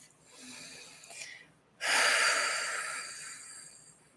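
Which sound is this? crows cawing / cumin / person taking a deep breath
person taking a deep breath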